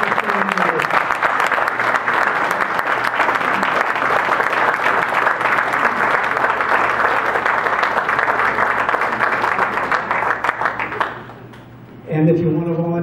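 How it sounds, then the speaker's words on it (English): An audience at a rally breaks into sustained, loud applause and cheering that carries on for about eleven seconds, then fades away before a voice starts speaking. "give them a round of applause"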